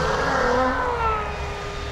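A Mad Lizard RC boat with SS turn fins, on brand-new 3S batteries, runs at full throttle with a steady high-pitched motor whine that sweeps slightly downward, fairly close and continuous, with no talk.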